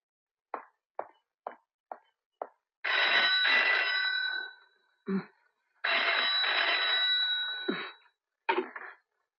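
A telephone rings in bursts in a Hindi film scene: several short clicks, then two long ringing bursts and a final short ring, close and clear with silence between.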